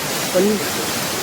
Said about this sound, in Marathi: हा बघा धबधबा छोटासा आहे